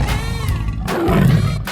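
In a 3D animal slide video game, a tiger gives a loud, close, rasping roar that swells into a deeper growl across nearly two seconds, with no talk over it.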